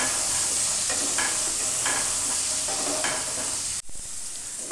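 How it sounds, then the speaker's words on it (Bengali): Potatoes fry in a pan with salt and turmeric, a loud continuous sizzle with faint stirring scrapes, briefly cutting out near the end. "আলুটা একটু একটু লাল করে ভেজে নেব"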